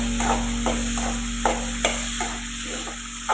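Cluster beans and tomatoes fry in a pan with a steady sizzle, broken by several sharp scraping stirs of a spatula spaced about every half second.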